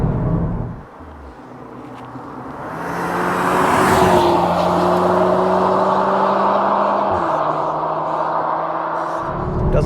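A 2022 Audi S3 compact performance car driving fast on a road, engine note climbing and holding through sustained acceleration with gear shifts, loud and close, steady road roar beneath.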